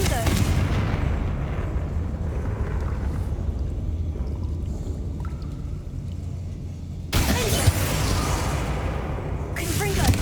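Confringo blasting spell exploding in Hogwarts Legacy, a broad roaring blast that swells sharply and rumbles loud and close, with a second burst near the end over continuous game noise while a voice talks.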